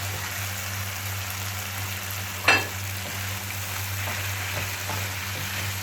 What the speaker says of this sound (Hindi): अब मैं इसमें डालती हूँ शिमला मिर्च।